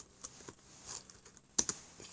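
A computer keyboard is typed on with one hand in a quiet room, giving sparse, uneven clicks and taps with short pauses between keystrokes and a sharper pair of clicks near the end.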